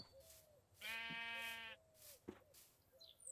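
Sheep in a modded Minecraft world bleat in a clear, harmonic, wavering cry lasting about a second, followed by a shorter second call, with quiet game ambience around them.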